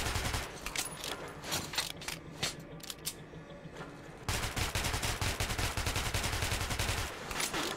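Rapid gunfire at a shooting range in Metro 2033, heard as bursts of sharp, closely spaced shots in a steady rhythm with a short lull, then a longer sustained automatic volley.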